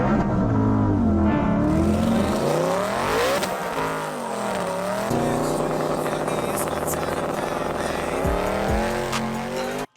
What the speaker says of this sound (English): Let's look at his Mustang at the track real quick